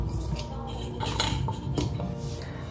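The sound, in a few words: mixing ragi flour and wheat flour batter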